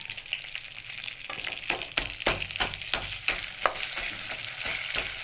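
Spices for dal tempering fry in a pan on a gas stove, a continuous close sizzle broken by repeated stirring and scraping strokes, with no talk.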